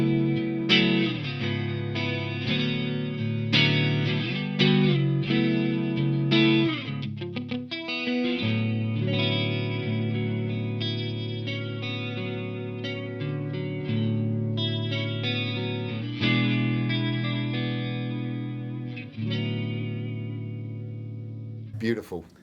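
An electric guitar played through a Walrus Audio Julianna stereo chorus pedal, sustained chords and single notes shimmering with lush, wavering modulation and light echo, continuous and fairly loud over twenty seconds with no talking.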